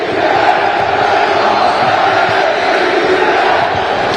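A dense crowd of fans roars and chants continuously at a Fenerbahçe Opet versus Galatasaray Çağdaş Faktoring women's basketball game, loud and sustained throughout.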